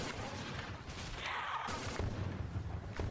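A 5-round burst weapon in the Roblox game Project Lazarus, a zombies mode, fires a dense run of rapid shots over a continuous game soundscape, loud and close.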